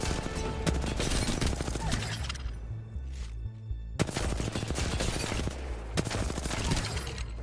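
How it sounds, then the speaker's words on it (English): R-301 rifle firing in the Apex Legends firing range, loud rapid automatic bursts with a brief pause near the middle, then more sustained fire, alone without talk. "That's the firing range R301 warm up"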